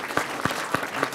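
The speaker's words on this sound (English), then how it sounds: "Round of applause for Ganesh at SmartPwrNet." Applause for a presenter at an MIT energy startup event, with four distinct, evenly spaced claps standing out close by over a faint background of scattered clapping.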